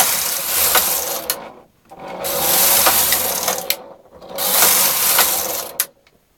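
Silver Reed knitting machine carriage sliding across the needle bed on tuck stitch rows, three long rattling, whirring passes, each ending in a sharp clack and separated by brief pauses, close and loud.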